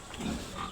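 A native pig sow gives a short, close grunt, a single low rough burst lasting under a second.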